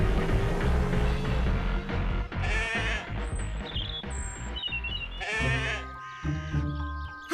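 Cartoon sheep bleat repeatedly in a Catalan-dubbed animated village scene, wavering cries rising over a busy musical backing, loud and close.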